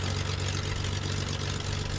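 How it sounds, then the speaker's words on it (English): A Rockwell Aero Commander 500 piston engine running in Microsoft Flight Simulator, a steady droning hum with a strong low tone that holds constant and close, with no talk over it. "Alright, so our engine's running."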